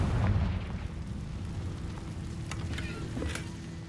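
A Confringo fire spell explodes in the video game Hogwarts Legacy, opening with a deep rumbling boom that fades into a low sustained roar with a few faint crackles.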